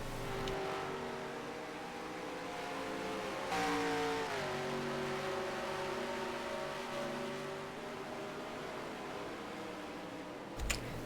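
NASCAR race cars lap the Daytona road course in the NR2003 video game. Engines drone steadily in a thin, synthetic tone, with the pitch shifting down and up through gear changes and corners, and a short thump comes near the end.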